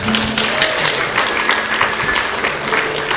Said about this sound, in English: And we bring our hands together and we give them applause.